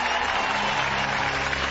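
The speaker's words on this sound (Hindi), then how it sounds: "बजाओ, ताली।" Dense crowd applause in a Hindi movie scene, a continuous wash of clapping at steady loudness through the short stretch with no talk over it.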